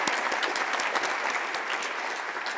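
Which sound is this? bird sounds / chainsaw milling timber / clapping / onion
clapping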